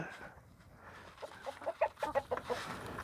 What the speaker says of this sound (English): So the chickens get extra greens, right, girls?